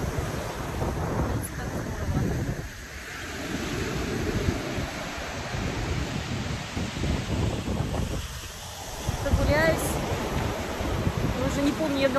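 Ocean waves wash onto a beach amid steady wind buffeting the microphone, a continuous broad roar with surges of surf rolling in and out, no talk over it.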